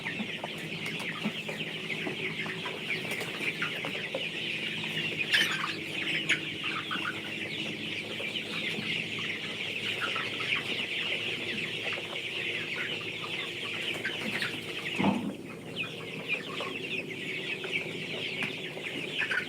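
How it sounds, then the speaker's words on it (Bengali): About 700 broiler chickens cluck and chirp continuously in a poultry shed, a dense, steady flock murmur throughout, moderately loud with occasional sharper calls and no talking. "এখানে সাতশো পিসের মতো মুরগি আছে"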